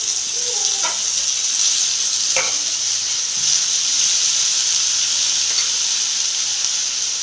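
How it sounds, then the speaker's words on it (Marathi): Chopped onion, green chillies and tomatoes hit hot oil already crackling with cumin, giving a steady, close, bright sizzle throughout with a few sharp spatters and light stirring knocks, and no talking. "त्याच्यावर टाकते कांदा त्याच्यासोबतच मिरच्या पण टाकून देऊ आणि टमाटरही टाकून देऊ"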